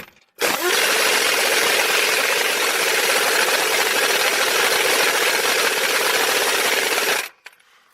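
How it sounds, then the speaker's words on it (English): A pneumatic air impact gun with a 21mm socket tightens a bolt during a timing chain job on a GM four-cylinder engine. It gives a loud, steady, close roar that starts abruptly, runs about seven seconds and cuts off sharply. "Let's get our air gun"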